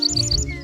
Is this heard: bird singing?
yes